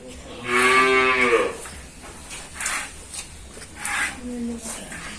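A dairy cow fitted with an anti-kick bar lets out a long, loud, close moo, followed by quieter lowing and scattered barn noises.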